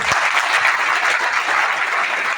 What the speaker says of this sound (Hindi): एक बार मैं चाहूंगा उनके लिए जोरदार ताली